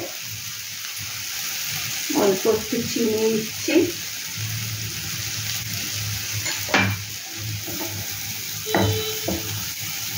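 A stuffing mixture with a little sugar fries in a pan for stuffed ash gourd, giving a low steady sizzle broken by scraping stirs, while someone speaks briefly over it.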